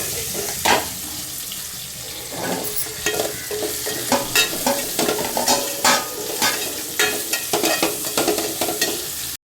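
Yellow pumpkin frying with asafoetida in a pan for sambar, stirred with repeated scraping strokes over a steady sizzle, close and fairly loud, with no talking.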